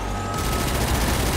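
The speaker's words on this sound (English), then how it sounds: "the ejecting brass and the sound effects for the minigun are so awesome" A minigun fires in a combat racing video game, a dense, continuous roaring burst that swells in at once and holds loud for the whole stretch, with no talking.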